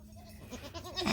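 Goats on a homestead bleating in short, wavering calls, softly at first and then louder and closer toward the end.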